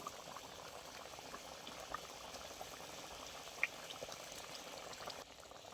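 Rohu fish curry gravy with potatoes bubbles in a pot: a faint, steady simmering hiss with soft popping bubbles throughout, and one or two small clicks.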